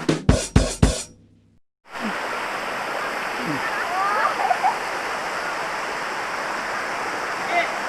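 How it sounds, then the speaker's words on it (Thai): Steady broadband rush of a waterfall at Lan Rak, Nakhon Nayok, fills most of the clip, preceded by a few sharp knocks and a brief silence; faint voices may sit underneath. "นี่ครับ น้ำตกข้างบนครับ"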